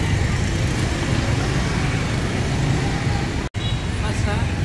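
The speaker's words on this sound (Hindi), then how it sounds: "बहुत केओटिक ट्रैफिक है लेकिन फिर भी चलें" Chaotic night street traffic in Hanoi's Old Quarter, a dense, constant wash of engines and road noise close by, broken by a single sharp cutout partway through.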